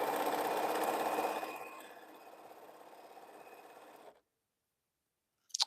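Sewing machine stitching quilt pieces for friendship chisel blocks, a loud steady motor whir for about a second and a half that slows and fades into quieter running, then stops, followed by a brief faint tone near the end.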